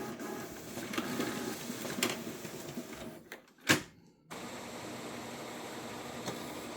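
Epson WorkForce Enterprise multifunction printer running a copy job with saddle stitch stapling, a steady mechanical whir and hum interrupted by a short pause and a sharp clunk before the machine noise resumes, with no voices.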